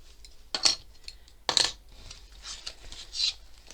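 Small metal charms on a handmade journal clicking and clacking in a few brief bursts, moderately close, with quieter clinks scattered between.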